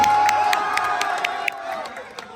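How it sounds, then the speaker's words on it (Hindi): An audience claps and cheers for both teams at a Bhojpuri team versus media team event, a lively crowd roar with whoops and shouts over scattered clapping, fading slightly toward the end. "एक बार जोरदार ताली बजाइए हमारी दोनों टीम के लिए आप सभी"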